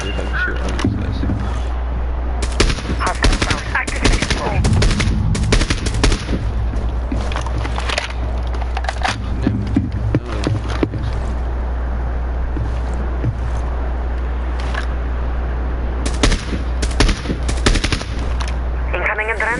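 Gunfire in the Rainbow Six video game. Rapid automatic bursts and single shots recur loudly throughout, mixed with game effects and bursts of player talk.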